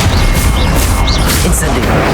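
A burst of Expelliarmus spell-casting from Hogwarts Legacy, a dense, loud booming magical blast with whooshing, whistling edges, continuous for a couple of seconds amid other combat effects.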